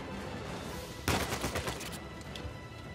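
Uncharted 4 gunfire erupts in a loud burst of rapid shots after a quiet second, tapering into scattered, fainter reports against a steady game background.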